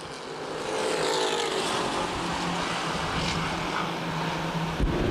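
Street stock race cars roaring around Winchester Speedway in a CRA championship race, a dense sustained engine drone with passing cars, loud and continuous throughout.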